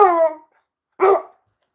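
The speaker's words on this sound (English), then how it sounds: "You want to bark, you ain't getting down." A dog gives two short, loud barks close by, separated by a brief silence.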